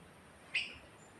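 A single short bird chirp rings out once, fairly faint, against a quiet background hiss.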